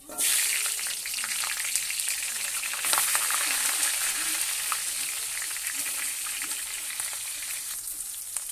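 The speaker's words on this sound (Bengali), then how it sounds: "কড়াতে দিয়ে দেবো তেল। এবার মাথাগুলোকে দিয়ে দেবো।" Katla fish heads fry in hot oil in a wok, giving a loud, steady sizzle with spitting crackles from start to finish, close by.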